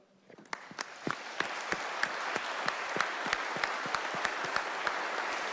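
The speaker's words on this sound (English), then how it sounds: "the House give them a round of applause" Applause in the West Virginia House of Delegates chamber starts with a few scattered claps, then swells into steady, moderately loud clapping from a full room that carries on throughout.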